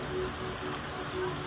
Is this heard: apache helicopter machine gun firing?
no